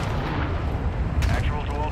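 A missile strike in Call of Duty MW2 DMZ on Ashika Island lands as a deep, rumbling explosion with a sharp crack partway through, loud and close, with a voice speaking over it.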